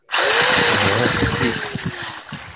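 A power jigsaw buzzes loudly and steadily for a couple of seconds, its motor whine drifting slightly in pitch as it cuts, close by.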